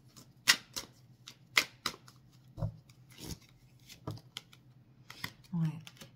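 Tarot cards being shuffled by hand, a series of brisk riffles and slaps at irregular intervals, close and crisp, with quiet thuds between them.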